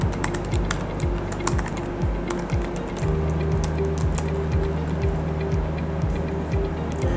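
Login credentials being typed on a computer keyboard: rapid, close key clicks in an irregular rhythm over a steady low hum, with no voice.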